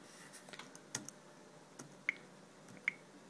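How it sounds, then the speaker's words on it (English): Arrow keys on a Bluetooth keyboard connected to a Samsung Galaxy S II are tapped, producing a handful of sparse, soft clicks spaced irregularly in a quiet room. "And I can use the arrow keys to select"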